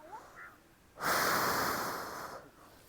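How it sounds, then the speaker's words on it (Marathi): A long forceful exhale during a seated breathing exercise, a close breathy whoosh lasting over a second after a quieter intake, no talk over it. "मोठा श्वास घ्यायचा, फुंकर सोडायचं"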